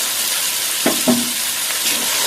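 Spice paste fries in a pan, a steady close sizzle with a couple of short scraping stirs partway through.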